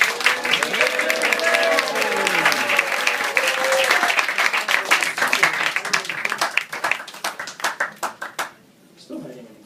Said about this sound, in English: So give him another big round of applause.